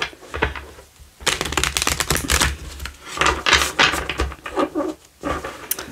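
A deck of tarot cards being shuffled by hand, with dense, rapid papery riffling and slapping in several close bursts separated by short pauses, with no voices.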